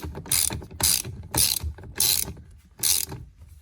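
Ratchet wrench tightening the steering wheel bolt on a Porsche Boxster 986, five distinct bursts of crisp clicking with short pauses between strokes, close and clear with no talking.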